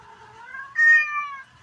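A cat gives a single drawn-out meow that starts soft, rises into a louder, brighter middle and then trails off, close and clear against a quiet room.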